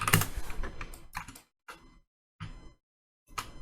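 Short bursts of typing on a computer keyboard, quick close clicks in three or four brief clusters separated by silent pauses, fairly quiet and with no talking.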